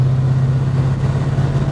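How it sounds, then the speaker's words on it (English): A 1936 Chevrolet street rod with a Corvette engine drives past, a loud, steady low engine drone with no talk. "It's got plenty of get up and go, just like you'd expect from a Corvette motor."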